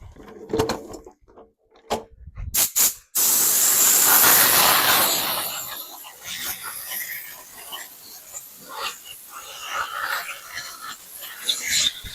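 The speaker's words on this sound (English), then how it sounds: "So I'm going to get the air compressor out, blast them off a little bit." A few sharp bursts give way to a loud, sustained hiss of compressed air blowing off 440 Mopar V8 engine parts for a couple of seconds, then scattered rattling and clatter.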